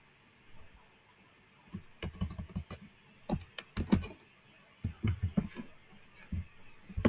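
Keys on a computer keyboard clack in scattered bursts of fast typing, close and moderately loud, with short pauses between runs of keystrokes.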